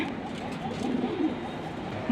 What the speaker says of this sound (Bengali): এই যে কবুতরের বাচ্চা আবার বড় হয়ে গেছে, খাওয়ার সময় হয়ে গেছে